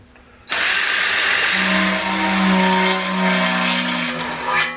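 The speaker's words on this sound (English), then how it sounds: "So even just going through that with a twist drill was relatively hard work." A twist drill starts abruptly and grinds steadily through 2.5 mm material, its motor whine holding for several seconds with a shifting pitch under load before stopping, loud and close with no talk.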